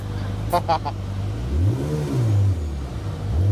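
A car at a Sherborne Castle car show, its engine revving up and dropping through a button-operated gear change, pitch rising and falling twice, close and loud, with a brief voice near the start.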